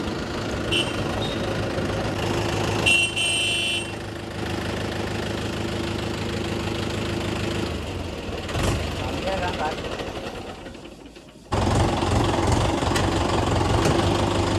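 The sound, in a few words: Mahindra 4WD tractor engine running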